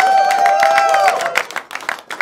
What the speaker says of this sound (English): You do not need to clap for that.